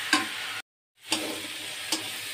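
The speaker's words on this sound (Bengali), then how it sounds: "এখন দেব আমি রসুন বাটা 1 চামচ, ভেজে নেব।" Garlic paste and browned onions frying in a pan, a close steady hiss with brief stirring clicks, cut by a short silent gap before the sizzle resumes.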